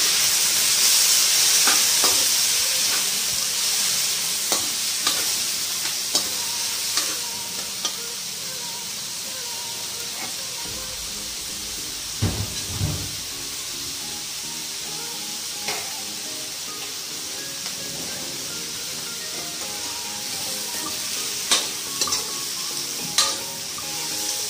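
Tenderized beef sizzling and stir-frying in a hot pan for bean sprouts with beef, a constant bright hiss with occasional spatula scrapes and clanks and a brief heavier bubbling burst midway.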